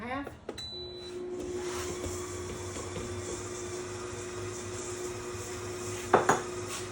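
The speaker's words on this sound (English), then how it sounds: "The good thing about our deluxe stand mixer too is it starts out slow on its own and it goes ahead and speeds up as it goes." A deluxe kitchen stand mixer runs with a steady electric hum, its bowl mixing meatloaf ingredients, framed by brief metallic clatters near the start and close.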